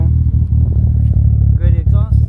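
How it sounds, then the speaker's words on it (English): Exhaust of a cammed Mitsubishi Evo, a deep, steady rumble heard up close that holds an even tone for a couple of seconds, with a few brief higher harmonic flickers near the end. "Here's the exhaust tone."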